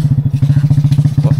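A motorcycle labors up an extreme steep incline, its engine thumping in a fast, even low-pitched pulse, loud and close throughout.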